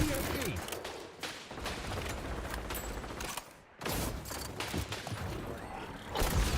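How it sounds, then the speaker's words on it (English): Gunfire in the online shooter XDefiant, a dense stretch of rapid shots and clattering mechanical noise that drops out briefly near the middle before the bursts resume, loud and close. "Just where those shots came from"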